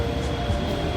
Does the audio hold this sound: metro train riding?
yes